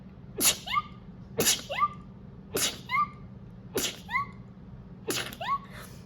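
Five sharp sneezes in a row, evenly spaced about a second apart, close and fairly loud with quiet breaths between.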